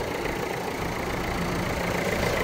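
A Renault Modus 1.5 dCi diesel engine with 41,000 km idles quietly and steadily, heard from the open engine bay as a continuous, even hum with no voices over it.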